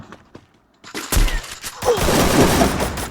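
Loud, rapid bursts of Free Fire video game gunfire crackle in quick succession after a quieter opening, building into a dense, sustained volley.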